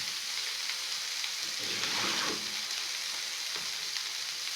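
Potato pieces and paneer fry in oil in a pan, giving a steady, close sizzle and crackle with faint scraping as the mix is stirred, and no talking.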